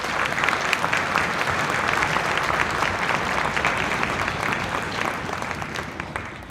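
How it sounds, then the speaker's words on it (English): Applause from the audience at a middle school summer band concert, a continuous crowd of hands clapping at moderate level throughout, softening a little toward the end. "So can we give the middle school staff also a round of applause?"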